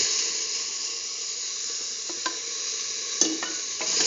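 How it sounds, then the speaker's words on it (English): Tomato pieces sizzle steadily in a hot pan as they are stirred, with a few sharp clinks from a utensil against the pan. "put in the tomato pieces"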